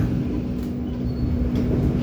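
The Argo Parahyangan express passenger train runs steadily, heard from inside as a continuous low rumble with a faint steady hum, no voices.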